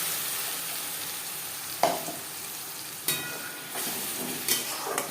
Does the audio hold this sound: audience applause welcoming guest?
no